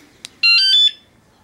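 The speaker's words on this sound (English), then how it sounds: "Wait for that second beep tone." A short electronic alarm beep from a Wsdcam bike alarm being armed on a Lectric XP 2.0 electric bike: a quick blip followed by a louder sustained two-tone chirp lasting about half a second, then silence.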